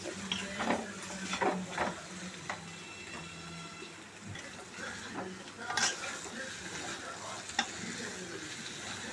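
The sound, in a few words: stirring chicken fry in a pan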